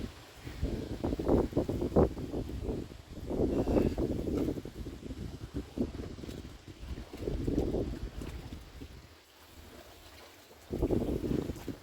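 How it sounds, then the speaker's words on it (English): Wind buffeting across a garden pond, heard as gusty low rumbling bursts that rise and fall close to the microphone, with quieter lulls between gusts. "Really being blown by the wind a bit."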